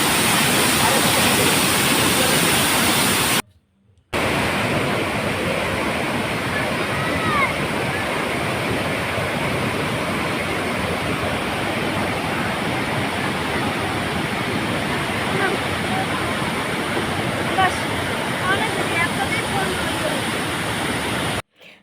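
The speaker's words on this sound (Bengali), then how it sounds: "তার মধ্যে এই ঝর্নার জল বেয়ে চলছে" Jonha Falls waterfall in Jharkhand, its water pouring in a loud, continuous broadband rush that fills the whole stretch, with one brief drop-out near the start.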